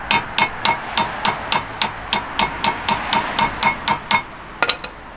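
A hammer strikes a brake part on a Honda Civic FN2 during a brake pad and disc change, about fifteen sharp metallic blows in a fast, even rhythm, close and loud, ending in a couple of quicker taps.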